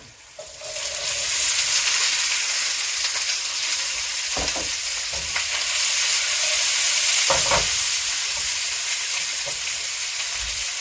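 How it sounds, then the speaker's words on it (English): Chopped vegetables fry in hot oil in a pan for Chinese pepper chicken, giving a steady, loud, close sizzle with a few brief stirring knocks and clatters throughout. "See the sizzle? Very good."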